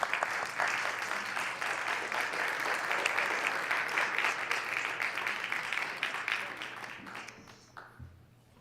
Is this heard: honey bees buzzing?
no